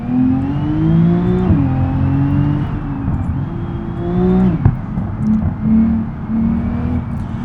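A car engine in the driving simulator BeamNG.drive revs up and down in repeated surges, a close, steady motor drone climbing and dropping in pitch with no talk.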